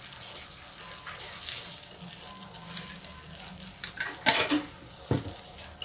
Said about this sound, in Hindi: अब इसको हम हल्का फ्राई करेंगे, गैस तेज करके इसको हल्का सा पका लेंगे।